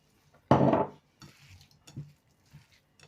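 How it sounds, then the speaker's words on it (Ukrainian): Food mixed in a bowl after salting and peppering: a loud scraping clatter of utensil against dish at first, then a few softer knocks and scrapes, close and alone. "і все добре перемішаю"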